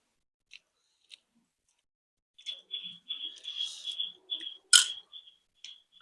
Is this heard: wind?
no